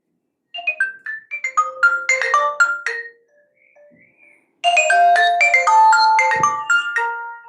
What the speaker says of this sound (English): Ringtones, I want to show you the ringtones.